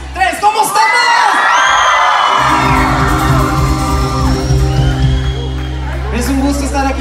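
Church crowd at an evangelical Christian gathering erupting in joyful shouts, whoops and cheers, a loud sustained wall of voices after a brief spoken lead-in, with amplified music humming beneath.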